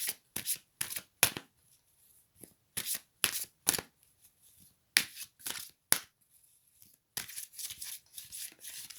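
Tarot-style cards shuffled and drawn for a reading, crisp riffling bursts in quick clusters with short pauses between, close and clear, no talking.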